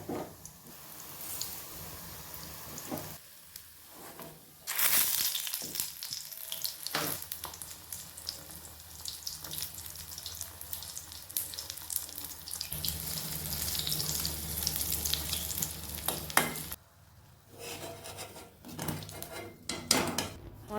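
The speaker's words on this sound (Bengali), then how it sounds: "এখন আমি কিছু চপ ভেজে নিচ্ছি" Chili and eggplant chops frying in a pan at home, a steady broadband sizzle with brief bursts and clatter, running water and dish sounds mixed in, no talking.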